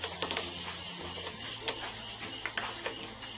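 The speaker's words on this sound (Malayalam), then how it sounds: "ഈ സമയം നമ്മൾ ക്രഷ് ചെയ്ത് വെച്ചിരിക്കുന്ന ഈ മട്ടൺ ഇതിലേക്ക് ഇട്ടിട്ട് ഇളക്കി കൊടുക്കാം." Crushed mutton frying over high flame in a pan, a steady sizzle with intermittent scraping and stirring strokes of a spoon against the metal, close and fairly quiet.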